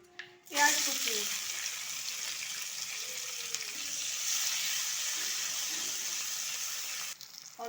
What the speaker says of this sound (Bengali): তো তেল গরম হয়ে গেছে, দিয়ে দেবো তেজপাতা, পাঁচফোড়ন, দিয়ে দেবো একটা শুকনো লঙ্কা, পেঁয়াজ কুচি